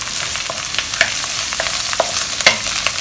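Sliced dried mushrooms stir-fried for Chinese shredded chicken and mushroom hor fun crackle and hiss steadily in a hot pan, with sharp spatula scrapes and clacks every half second or so, close and loud with no voices.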